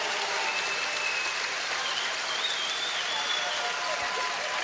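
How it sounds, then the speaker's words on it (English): Steady applause and cheering from a curling crowd at the 2018 Women's World Curling Championship, Canada versus China, sustained and fairly loud throughout, with no distinct voices. "The crowd loving it now."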